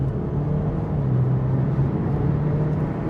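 Mitsubishi Evo X SST, its transmission set to auto mode, drives along with a steady low engine drone and a faint tonal whine rising slightly, heard from inside the car and without talk.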